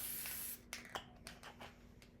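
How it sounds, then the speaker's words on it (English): Spray adhesive hisses from a can onto quilt batting for a wall-hanging finish: a steady half-second spray, then several shorter bursts, close and fairly quiet in a calm room. "so I'm gonna spray this"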